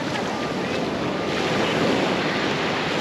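Ocean surf churns against a breakwater on a beach in southern Tenerife, a dense, continuous roar of water mixed with wind buffeting the microphone, steady and close with no voices.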